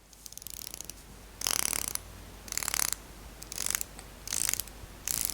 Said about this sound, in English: this is the most refined Seiko bezel I've ever had the pleasure to twist. It's not hugely audible, but it is pretty damn satisfying.